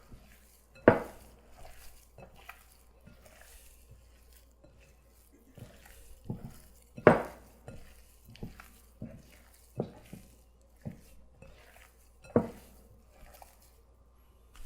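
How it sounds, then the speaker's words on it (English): Ground turkey being mixed by hand in a bowl, a series of soft wet squishes and sporadic clinks of the bowl, close and fairly quiet, with no talking. "you gotta mix it with your hands so it mixes really,"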